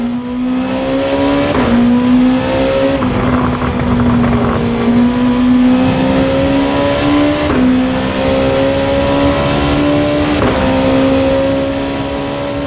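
Race car engine in Gran Turismo 7 at Spa drones loudly and steadily, pitch climbing through gears with several quick shift drops, alone without talk.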